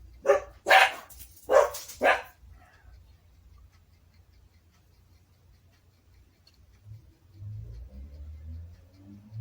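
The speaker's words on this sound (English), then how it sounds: "you hear the dogs barking because my workshop is out in the shed" Four sharp dog barks ring out in quick succession near the start, heard from a workshop in a shed, then the scene falls quiet apart from faint low rumbling.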